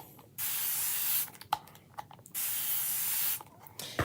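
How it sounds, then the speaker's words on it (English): Water sprayed from a bottle onto a Chalk Couture transfer to rinse off ink, two long steady hissing bursts with short spritzes between, close and fairly loud, no voices. "You can see as I'm spraying, I'm actually spraying it away."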